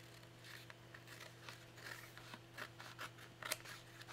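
Scissors trimming a paper cover for a handmade woodland journal: a series of close, crisp snipping cuts at an uneven rhythm, quiet and alone without talk.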